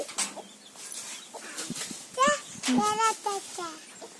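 A small chick clucks and peeps in short bursts while a child and an adult talk nearby.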